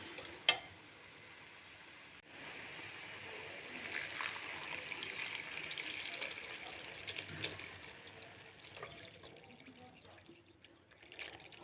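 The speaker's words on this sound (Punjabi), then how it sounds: "ਗਾਜਰਾਂ ਸਾਡੀਆਂ ਜਿਹੜੀਆਂ ਸੌਫਟ ਹੋ ਚੁੱਕੀਆਂ ਨੇ ਹੁਣ ਅਸੀਂ ਇਹਦੇ ਵਿੱਚ ਦੁੱਧ ਪਾਵਾਂਗੇ" Milk poured from a pan into softened grated carrots for a carrot halwa (gajrela), a steady close pouring and trickling wash that swells in the middle and tapers off, with no talk.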